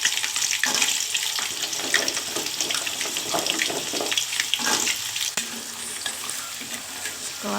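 Jengkol beans frying in hot cooking oil in a wok, a loud continuous sizzle and crackle with stirring scrapes throughout, close up and without speech.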